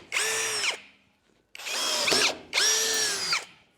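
Power drill boring into metal pipe during a 4WD ute build, three sustained whining bursts of about a second each separated by short pauses, close and loud with no talk.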